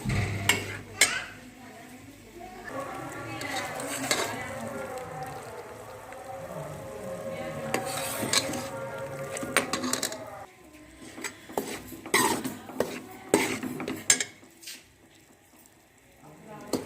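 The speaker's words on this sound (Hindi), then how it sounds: "ये 3 से 4 मिनट तक हम इसे हल्की आंच पे भूनेंगे" Rice flour is stirred and roasted in a pan over a low flame for rice laddu, with irregular scrapes and clinks against the pan and a faint sizzle, while a person talks over much of it.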